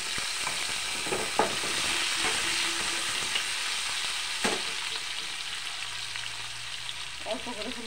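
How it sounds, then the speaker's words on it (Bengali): Potatoes frying in a pan with chopped onion, a soft continuous sizzle broken by a few sharp clinks of a spatula stirring against the pan. "আলুগুলি ভেজে নেবো।"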